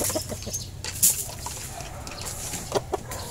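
Hens cluck in short bursts at moderate distance, with a few sharper calls standing out over a steady low farmyard hum.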